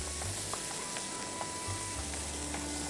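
Dried chili powder and spices frying in a pan for beef tehari, a steady soft sizzle with faint stirring scrapes, close and alone.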